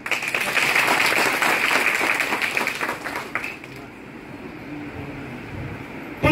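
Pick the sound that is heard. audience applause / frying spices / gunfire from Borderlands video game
audience applause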